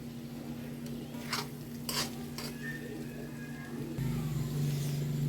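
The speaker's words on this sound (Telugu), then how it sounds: "కీమా ఫ్రై అయిపోతుందండి." Minced meat keema fries in a pan with a soft, steady sizzle. A few close scrapes and metallic clinks of a utensil against the pan sound over a low background hum.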